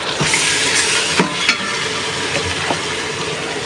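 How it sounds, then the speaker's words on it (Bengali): Onions frying with marinated beef added to a hot pan for Bengali beef bhuna, a loud steady sizzle with occasional scraping and stirring clicks from a utensil throughout. "এখন পেঁয়াজগুলো ভেজে নিচ্ছি আর মাংসটা দিয়ে দিই"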